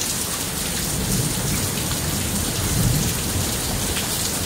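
Heavy rain pours steadily during a lightning storm in Lufkin, Texas, a dense continuous hiss with low thunder rumbling underneath, loud and close throughout with no voices.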